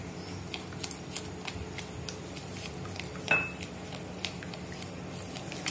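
A spoon stirs white sauce pasta in a pan, soft scattered scrapes and light clinks at close range over a quiet background, with one slightly louder knock midway.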